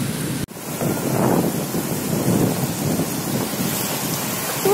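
Sea waves surge on a beach in a steady broad roar mixed with wind buffeting the microphone, continuous and fairly loud throughout, with no voices.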